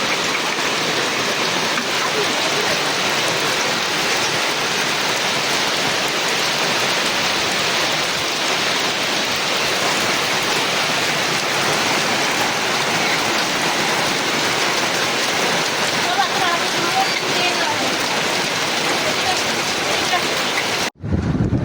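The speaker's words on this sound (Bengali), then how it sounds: "আজকে আর বৃষ্টি থামার নাম নাই" Heavy, steady rain pours down throughout, a dense unbroken hiss that stops suddenly at the very end.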